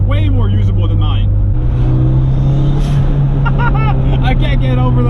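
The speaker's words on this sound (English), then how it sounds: "Turbo noises are the best." Turbocharged Toyota MR2 with a 3SGTE engine humming steadily from inside the cabin, a loud continuous drone with a small shift in pitch, while people talk over it.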